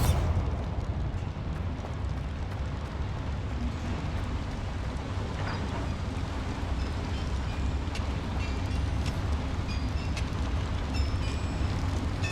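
The Bombarda blasting spell goes off in the Hogwarts Legacy game as a deep, sustained rumble of crumbling debris. It rolls on at constant loudness with no voices over it.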